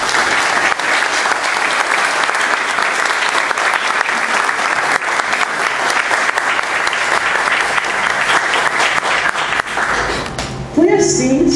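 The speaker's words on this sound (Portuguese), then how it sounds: "Gostaria de lançar uma de palmas para ele." An auditorium audience at the ADUFEPE teachers' association gives a long, loud ovation of dense clapping that holds steady for most of its length, then breaks off as a voice begins speaking at the end.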